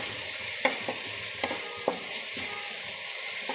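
Homemade ground spices of ginger, coriander and cumin sizzle steadily in a hot pan, broken by several sharp scraping clicks as they are stirred, close and fairly quiet, with no voices.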